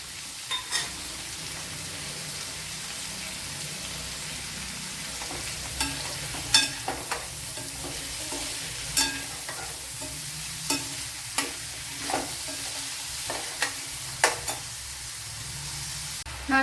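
Chopped onion and curry leaves sizzle and fry in a pan with salt, a steady close crackle broken by repeated sharp scraping stirs at an irregular rhythm.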